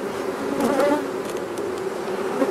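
Honey bees at an open hive hum in a steady, close buzz that fills the short stretch without a break.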